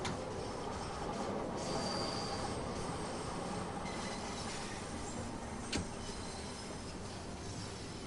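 A Bakerloo Line train in Train Sim World 2 rumbles steadily as it brakes into Piccadilly Circus, with faint wheel squeal and a brief sharp click partway through.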